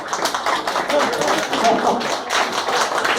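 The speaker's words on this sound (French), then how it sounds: "on peut l'applaudir" Audience applause at the Baguettes d'or 2015 gala in Paris's 13th arrondissement, honoring the director of the Chinese tourism office; a dense, steady patter of many clapping hands continuing throughout with no clear pauses.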